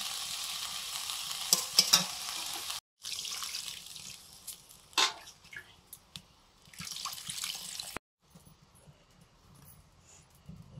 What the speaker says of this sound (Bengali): মশলা আলু কষে নিয়েছি, এবারে জল দিয়ে দেবো